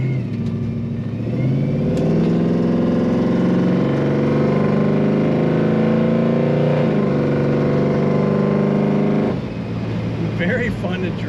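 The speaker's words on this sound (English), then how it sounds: "Nice, what you might call a glass pack sound to that exhaust" A 1955 Chevrolet Bel Air Nomad two-door wagon with a glass pack exhaust drones steadily at highway speed, its deep, rumbling tone building, then easing off near the end.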